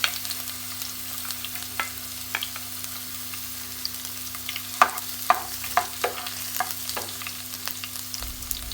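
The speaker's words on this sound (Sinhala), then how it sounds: "ඊට පස්සේ තෙල් ටික රත් වීගෙන එනකොට මුලින්ම අපි අර කපාගත්ත ඉඟුරු සුදුලුණු මිශ්‍රණය" Ginger-garlic mixture frying in hot oil for a snack, a soft continuous sizzle under a low hum, punctuated by scattered sharp pops and spoon clicks that cluster toward the middle, with no talking.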